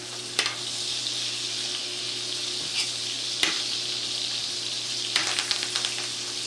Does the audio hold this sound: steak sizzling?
yes